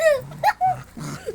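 A puppy whimpers and yips in short, high, nasal bursts while tussling over a ball, the sounds loud and close with brief pauses between them.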